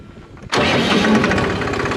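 A Massey Ferguson 266 tractor with a newly replaced clutch lining starts up abruptly about halfway in, its engine running loud and close with a steady mid-pitched chug after a quiet lead-in, heard as the clutch is pressed for a gear change.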